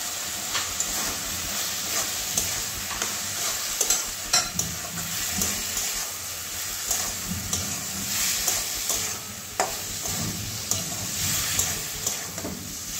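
Soaked soybean chunks being stirred and fried with spices in hot oil for a soybean curry, a steady sizzle with repeated scraping stir strokes throughout, close and fairly loud.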